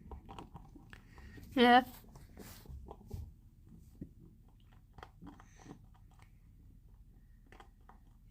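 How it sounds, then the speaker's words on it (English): Pet rabbits munch treats at breakfast with soft, close, irregular crunching bites and chewing, broken by one sharp squeaky burst, while a person briefly speaks. "Listen to that munching."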